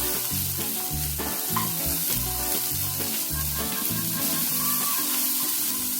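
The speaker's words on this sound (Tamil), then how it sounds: "இதெல்லாம் நல்லா வதக்கிக்கணும்." Pirandai (adamant creeper) sautéing in a pan, a steady close sizzle and frying crackle with stirring scrapes running throughout, no voices.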